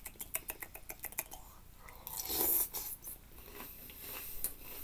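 Crunchy chewing of a big bite of Cinnamon Toast Crunch cereal, close to the mic, with rhythmic crisp crunches early, a louder burst midway, then softer chewing.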